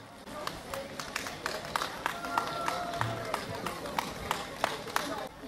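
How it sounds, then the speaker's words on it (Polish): Audience applause for a children's folk song and dance group at a 2023 Watra folk festival concert, with sharp, scattered claps rising over a murmuring crowd and some talk. "Zapraszamy serdecznie, wielkie brawa dla nich."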